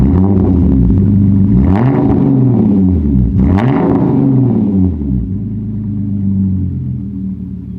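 Hyundai Genesis Coupe engine idling after a warm start with a deep, loud rumble, rising and falling through two revs that sweep up and back down, then settling into a steady idle; no talking.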